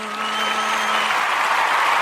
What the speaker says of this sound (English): Everybody hold your applause.